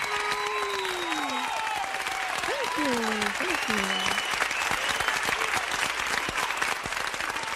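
Sustained applause and cheering from a crowd fills the scene, while a few voices speak and call out over the clapping.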